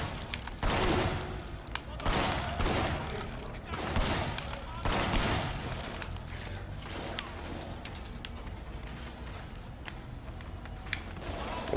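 Bursts of rapid gunfire from the game Sleeping Dogs crackle in quick volleys, loud and close, with mechanical clicks and ricochets between shots, easing into quieter background noise toward the end.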